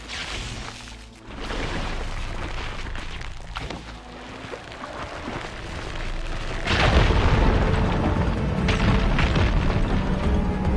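Fire gleam ignited to blast away a pile of rubble in Horizon Forbidden West, a loud booming explosion that swells after a stretch of dense rumbling game noise and then rolls on with crashing debris.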